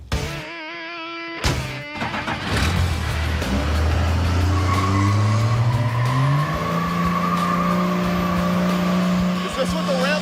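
A 1970 El Camino fitted with a Cummins 12-valve diesel does a burnout, its engine roaring loud and close as revs climb steadily, with tire squeal and people talking over the noise.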